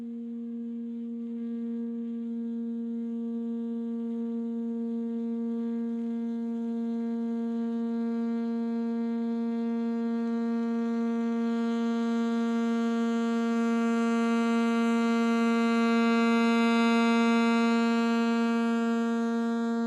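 Alto saxophone holding one long G, its steady pure tone swelling gradually from soft to loud and easing back at the end, sustained alone for about twenty seconds.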